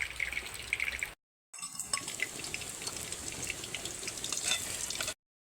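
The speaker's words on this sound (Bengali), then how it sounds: "যদি আর একটুখানি দেরি করেই বেরেস্তাটা বেশি করেই কিন্তু ভাজা হয়ে যাবে" Sliced onions frying in oil for birista, a low steady sizzle with faint crackles and drips, quiet and close, broken by two short silent gaps.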